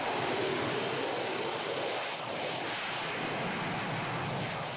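An F-35 fighter jet taking off, a loud, steady broadband roar that fills the whole clip without letting up, alone with no talk.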